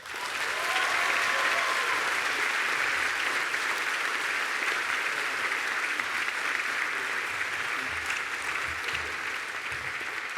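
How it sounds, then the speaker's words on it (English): Sustained applause from a large audience at a university graduation ceremony, steady and dense for the whole stretch, with no voices standing out. "The applause is well deserved."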